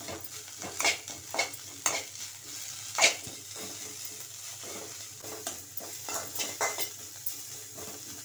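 Coriander leaves frying in a pan for a herbal thuthuvalai rasam are stirred with a spoon, giving repeated close scrapes and clinks over a soft, steady sizzle.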